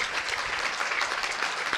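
Listeners at a Hindi religious discourse about Shiva and the Amarnath cave clap in a steady but half-hearted patter, a continuous rattle of many hands with no speech.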